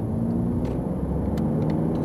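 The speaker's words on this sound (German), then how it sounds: "Fahren wir mal in Richtung Weil." A car drives through the town of Haltingen toward Weil am Rhein, a steady low engine and road rumble heard from inside the cabin, constant and fairly loud with no talk.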